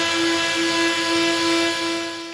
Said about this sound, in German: Die Bosch schleift die relativ dicke Lackschicht in einer akzeptablen Geschwindigkeit weg.